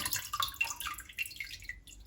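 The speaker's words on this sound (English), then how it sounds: "So just squeezing that water out now, because we want all that water out of there." Water drips and trickles from homemade butter being squeezed and drained in a colander, a quiet, close patter of small irregular drops with no voices.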